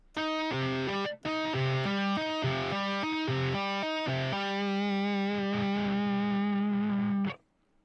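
Fast tapped 8th-note triplets on a heavily distorted electric guitar, a rapid, evenly pulsing run of loud notes with a brief gap early on, ending abruptly.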